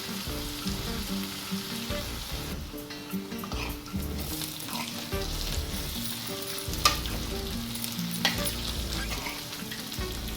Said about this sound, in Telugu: ఉల్లిపాయలు అనేవి ఏగిపోయినాయి